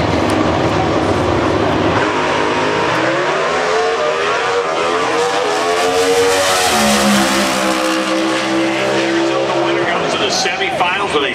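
Pro Stock drag race cars at the 2008 NHRA Northwest Nationals in Seattle roar loudly and continuously, the engine pitch sweeping upward as they accelerate down the strip, then fading near the end.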